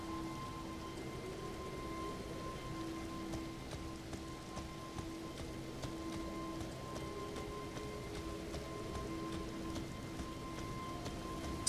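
Video game rain falls in a steady, even patter throughout, with faint sustained hum tones running underneath and no voices.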